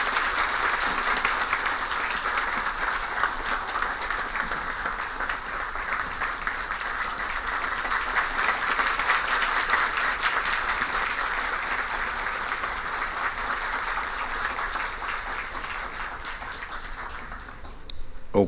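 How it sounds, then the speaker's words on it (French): A school event audience applauds the invited lycées, Benoît Batraville and Daniel Fignolet, with sustained, dense clapping that holds steady for many seconds before tapering off at the end. "Merci au public d'avoir aussi intensément applaudi."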